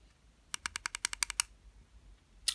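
Nine rapid clicks on the button of a GTRS VBOY 200W temperature-control box mod, close and crisp in an even burst, followed after a pause by one more click.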